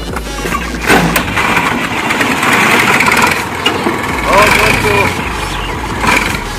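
A tractor engine catches and runs after being push-started, a loud close chugging and idling that surges in waves, with people talking over it.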